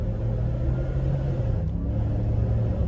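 A 700-horsepower supercharged 5.0 Ford F-150 pickup on 35-inch tires accelerating, a loud, deep, steady engine rumble heard from inside the cab, continuous and without talk.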